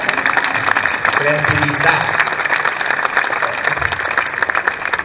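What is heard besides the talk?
applause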